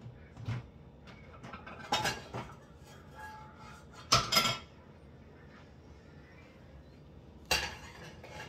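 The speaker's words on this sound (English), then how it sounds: "Let me get my pan set up," Pan set up for cooking in a home kitchen: scattered clinks and clanks of cookware, cutlery and glass with a few sharp knocks, close and fairly quiet between bursts.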